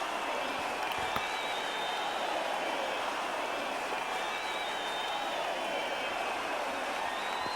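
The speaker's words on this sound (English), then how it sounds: "this crowd here in Philly is showing appreciation" A wrestling crowd in Philadelphia applauds steadily, a dense wash of clapping and crowd noise that holds at an even level throughout with no break.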